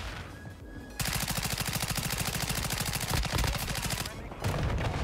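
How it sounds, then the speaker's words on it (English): Rapid automatic gunfire in Call of Duty MW2 from a Chimera rifle, loud and close, fired in a long burst of evenly spaced shots followed by a short pause and another burst. "I am shooting it, bro"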